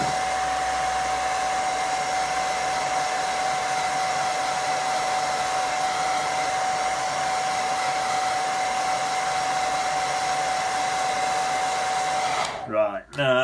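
A hair dryer blows steadily over a watercolour painting of sheep on a hillside, a loud close whoosh with a constant whine that runs unbroken until it cuts off abruptly near the end.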